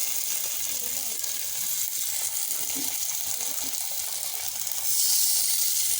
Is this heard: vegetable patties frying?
yes